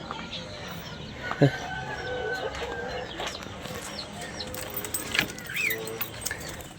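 Chickens cluck in a backyard cage, with soft, repeated clucks and a few sharper calls over a constant background murmur of other birds.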